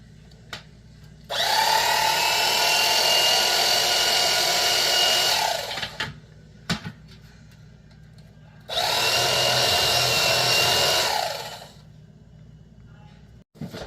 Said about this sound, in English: open the can